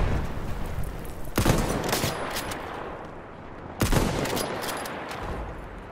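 Two loud gunfire blasts from Battlefield 1, one shot into a mine, crack out a couple of seconds apart, each trailing into echoing rumble over a constant battlefield din.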